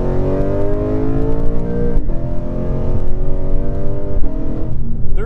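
A 2018 Lexus RC F engine drones loudly and close, its pitch sweeping through paddle-shifted gear changes, with brief dips at each shift around two and four seconds.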